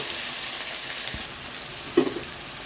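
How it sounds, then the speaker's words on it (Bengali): Whole spices (garam masala, bay leaf and dried chilli) tempering in hot oil for dhokar dalna, giving a faint, steady sizzling hiss with a few small pops. "গরম মশলা, তেজপাতা, শুকনো লঙ্কা ফোড়ন দেব।"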